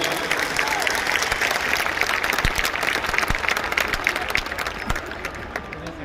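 A church congregation at a Calvary Temple thanksgiving celebration applauds loudly for Dr. Satish's birthday, dense sustained clapping from a large crowd filling the hall, tapering slightly toward the end.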